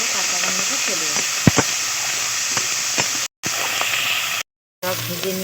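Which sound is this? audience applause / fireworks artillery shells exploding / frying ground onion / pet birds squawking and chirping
frying ground onion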